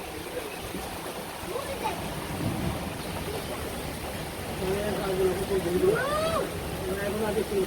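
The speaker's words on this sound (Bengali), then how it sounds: "অনেক কিন্তু বৃষ্টি নামছে।" Heavy rain pours down on a village, with a constant dense hiss and low rumbling thunder rolling beneath it, while faint voices murmur in the background.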